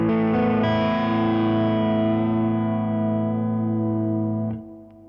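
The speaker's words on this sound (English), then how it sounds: "So if I turn the Vox off, you'll hear that the vibrato is only in the Princeton." Electric guitar with vibrato playing through a Fender Princeton amp alone, the Vox amp switched off: one sustained, shimmering wavering chord rings loud and steady for about four and a half seconds, then is cut off.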